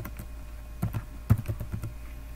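Soft keystrokes on a computer keyboard entering a database login password, a short irregular burst of clicks in the middle over a steady low hum, close and fairly quiet.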